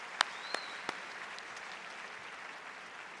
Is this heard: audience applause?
yes